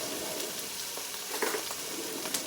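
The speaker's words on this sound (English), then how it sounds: "Okay, the oil should be hot enough. I'm going to put my onions in" Onions frying in hot oil in a pan, a steady soft sizzle with faint crackles and a brief louder burst partway through, close by and with no talking.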